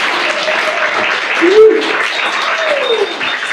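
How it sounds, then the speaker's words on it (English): A crowd applauds for panelist Adriana at a California Ocean Day afternoon panel, a steady wash of clapping throughout while a voice talks briefly over it. "Round of applause."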